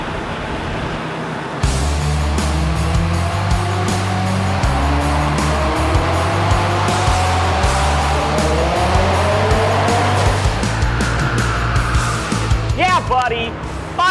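A Subaru STI tuned to about 500 wheel horsepower runs flat out on a dyno, its loud, close engine note climbing steadily through the revs under a turbo whine, then cutting off with a short chirp at the end.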